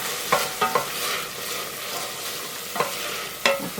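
Chopped onions sweat gently in a soup pot, giving a soft, steady low sizzle. A few sharp spoon-stirring scrapes stand out, and there is no talking.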